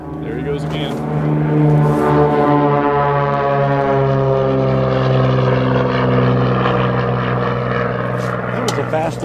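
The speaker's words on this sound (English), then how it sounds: "That's a fast airplane." A gyroplane on a flight-training session roars past with a loud, droning propeller-engine tone whose pitch slides downward as it passes overhead, sustained and dominant throughout.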